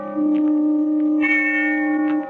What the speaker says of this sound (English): the sound of the distant bell faded out